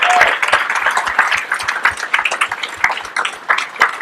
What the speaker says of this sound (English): please give the biggest round of applause